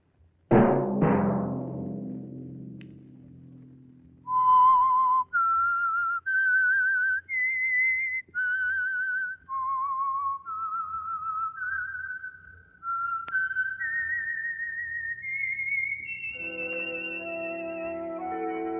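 A whistled melody, the signal tune of a 1950 radio drama, rises step by step through a long run of clear, sustained notes, following a few low plucked tones at the start.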